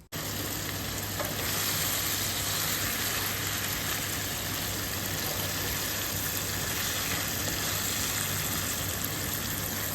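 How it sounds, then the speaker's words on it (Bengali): Homegrown bottle gourd greens with potato fry in a pan, a steady, dense sizzle of hot oil running evenly throughout with faint stirring, close and without speech. "গাছের লাউ শাক প্রথম কাটা অল্প কিছু লাউ শাক সঙ্গে আলু দিয়ে মজা করে ভাজি করেছি"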